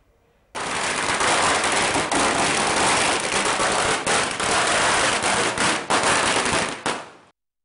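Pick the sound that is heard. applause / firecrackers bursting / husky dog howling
firecrackers bursting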